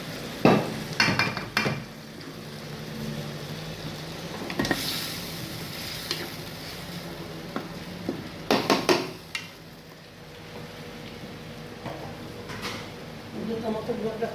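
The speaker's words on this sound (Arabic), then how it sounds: "ودي كده اتشوحت هحط لها برضك الطماطم دي فرمة" Minced tomatoes hit a hot pan and sizzle steadily while being stirred, with a few sharp clanks of a utensil against the pan and occasional talk over the cooking.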